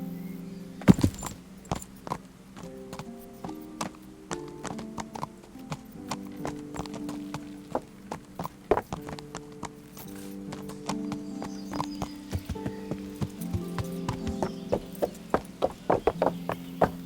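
Horse hooves clip-clop in Kingdom Come: Deliverance, a steady walking rhythm of crisp, close hoofbeats over a low tonal musical bed, with a few heavier thuds early on.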